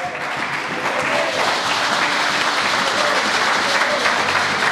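A church congregation applauds to acclaim the Lord, a dense, steady wash of clapping from many hands that swells slightly and holds throughout.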